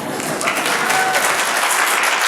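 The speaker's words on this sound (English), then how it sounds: "I'll pause for applause." An audience at a university talk breaks into applause, a dense, loud burst of clapping that fills the whole moment without speech.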